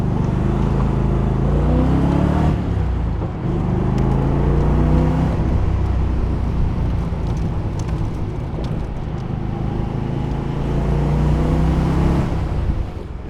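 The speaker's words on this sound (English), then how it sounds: "And of course you got that V8 noise." A Rover V8 car engine runs steadily and loudly throughout, a deep continuous rumble with slight swells in revs and no talking over it.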